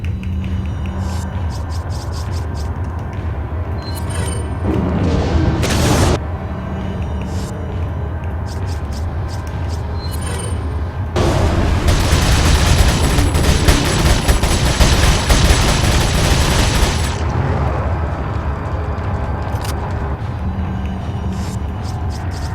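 Grenade blasts and gunfire in Resident Evil 4: a sharp explosion burst, then a long roaring blast with crackling debris, between quieter ambient stretches and isolated shots, loud and close.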